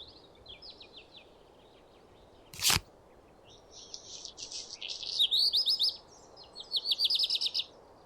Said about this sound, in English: Lesser whitethroat.